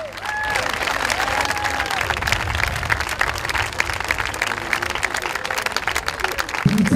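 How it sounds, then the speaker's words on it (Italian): A studio audience at an Italian talent show applauds the contestants with steady, dense clapping and some cheering, loud and continuous under faint crowd voices. "con un grande applauso a tutte queste meravigliose stelle"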